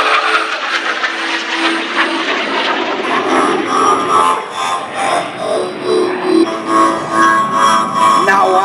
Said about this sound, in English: From your right, the F-16 and the knife edge pass.